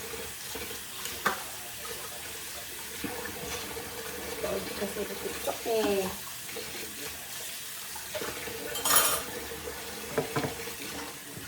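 Tap water runs into a sink with occasional clatter of dishes and utensils, while a person speaks briefly in the background.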